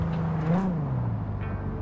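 Car engine in the video game Cyberpunk 2077 revving briefly, a low droning engine tone that rises then falls, steady and close with no talking.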